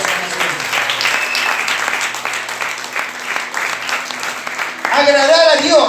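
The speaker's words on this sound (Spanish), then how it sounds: "Dale aplausos a eso." A church congregation applauds during a Spanish-language sermon, steady clapping from many hands over about five seconds, then a voice speaks loudly at the end over the fading applause.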